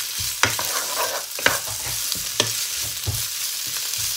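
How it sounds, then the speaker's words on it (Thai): Ginger sauce is stir-fried for grilled fish over a continuous sizzle, with about four sharp spatula strikes on the pan at roughly one-second intervals, close up and with no talking. "เราก็ผัดเลยนะคะ"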